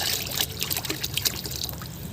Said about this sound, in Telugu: ఇలా చక్కగా వాటర్ పోసేసుకున్నాం కదా ఫుల్గా.